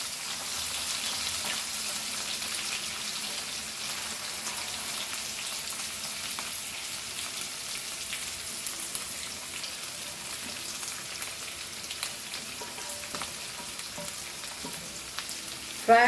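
Chilies, curry leaves and chopped onions fry in hot oil for chicken kheema, a steady soft sizzle and crackle running on evenly, close by and unbroken by talk.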